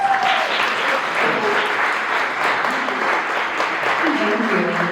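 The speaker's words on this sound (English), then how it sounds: "So please, a round of applause for my beautiful wife, Renee." A conference audience breaks into loud, sustained applause that fills the room evenly, with voices faintly audible beneath the clapping.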